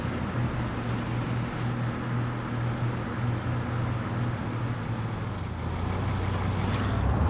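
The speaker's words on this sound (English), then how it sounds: "All of our trucks are grabbing stuff." Trucks in the Transport Fever game rumble in a continuous, dense low engine roar with a steady hum, heard alone with no voices.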